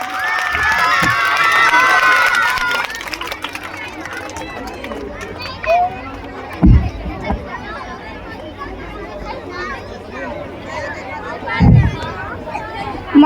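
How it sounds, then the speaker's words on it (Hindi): A school audience at a 15 August celebration shouts and cheers loudly for a few seconds, then fades into crowd chatter, scattered thumps and people talking. "तालियों के साथ स्वागत करिए।"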